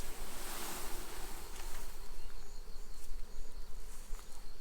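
A mass of bees swarms around a trap, making a steady, dense buzzing drone that stays close and constant throughout, with no talk.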